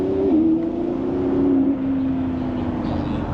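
A lineup of Lamborghinis rolls past on the road, a low steady engine drone that shifts pitch slightly as the cars go by, moderately close, with no talk.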